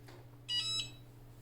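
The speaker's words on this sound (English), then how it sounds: "you hear the beep. It lets you know that it's ready." A single electronic beep from a Cricut mug press signaling it is ready, bright and tonal, lasting about a third of a second over a low steady hum, close by, with no talking.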